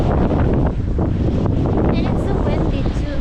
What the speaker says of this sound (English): and it's so windy too